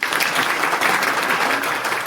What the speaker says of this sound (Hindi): जोरदार तालियों से डॉक्टर नवीन ममगाई जी का स्वागत